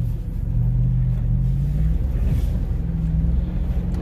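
A Toyota Tundra Double Cab pickup slides sideways through snow, heard from inside the cab as a constant loud low rumble of engine and tire noise with wind buffeting and a rising engine drone.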